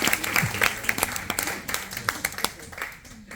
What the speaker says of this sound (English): Come on, round of applause.